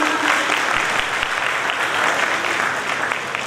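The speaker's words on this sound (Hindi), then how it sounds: "जोरदार तालियां।" An audience at a community stage event in Sikar, Rajasthan breaks into loud, dense applause, a steady wash of clapping that fills the whole moment without pause.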